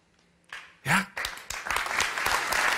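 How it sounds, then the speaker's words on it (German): A studio audience at a satirical cabaret TV show breaks into hesitant applause, starting thin and scattered after a brief voice, then building into steadier clapping. "Ich weiß, zögerlicher Applaus"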